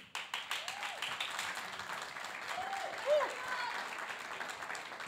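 A theatre audience claps after a performance, a fairly brief burst of applause from a modest room that stays steady and moderately loud, with a voice speaking faintly over it.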